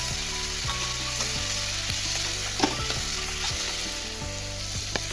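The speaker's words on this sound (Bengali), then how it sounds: "আমি এবার বড়িগুলো সব দিয়ে দেবো সবগুলো বড়ি দিয়ে দিলাম" Lentil dumplings (bori) fry in a pan with a dense, continuous sizzle, close and even, and a soft clink of stirring now and then, with no one speaking.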